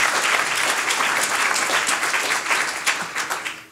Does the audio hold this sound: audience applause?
yes